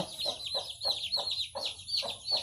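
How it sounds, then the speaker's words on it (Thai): Fighting-cock chickens cluck in a steady, repeated rhythm, about two calls per second, close by and fairly soft, with thin high chick peeps running throughout. "ไก่ชน"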